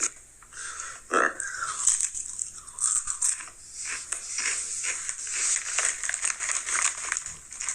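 Crunching of Ruffles Queso Cheese potato chips being bitten and chewed, a few crisp bites and chewing bursts, close and fairly loud, with little else around them.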